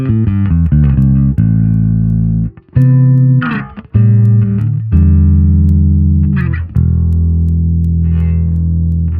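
Bass guitar played through a 136K tone filter, a run of deep plucked notes and slides with a rounded, dulled top end and little brightness, loud and close, with no talking.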